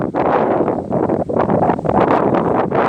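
Strong wind blows steadily outdoors in the evening, a loud continuous rush with gusty buffeting against the microphone throughout and no talking.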